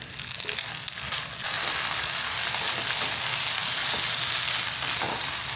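Chicken pieces frying with browned onions in a pan for a local chicken curry, a steady loud sizzle throughout with occasional scraping stirs, no talk.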